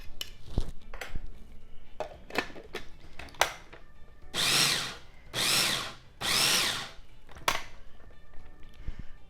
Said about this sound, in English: I'm going to go ahead and give this a little bit more of a chop because I see some really large garlic cloves